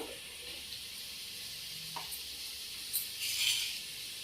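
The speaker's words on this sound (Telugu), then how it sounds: "ఇది ఇలా వేగుతూ ఉంటాయండి." Mushroom fried rice ingredients fry in a large pan with a soft, steady sizzle throughout, broken by a brief utensil clink near the end. The sound is quiet and no one speaks.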